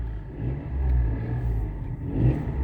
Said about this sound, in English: these little 3 cylinders sound like a bag of spanners at the best of time